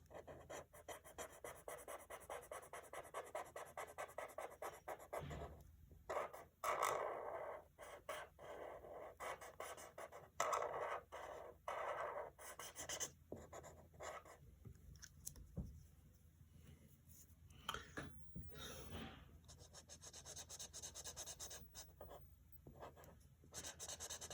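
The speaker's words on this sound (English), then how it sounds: "I'm going to use markers for this one." Markers squeak and scratch across paper in repeated strokes, close and fairly quiet, with pauses between bursts of coloring.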